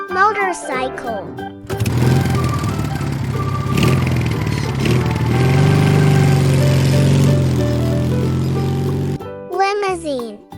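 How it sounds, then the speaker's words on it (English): Motorcycle engine idling and revving with a rough, throaty drone that rises and holds, loud and close, with a voice speaking briefly before and after it. "Motorcycle."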